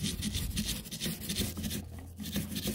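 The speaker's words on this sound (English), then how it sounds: "So you can sand and then get that little brush in there." Driftwood is worked by hand with sandpaper and a small brush, giving close, soft, irregular scratchy rubbing strokes that come in short bursts with no talking.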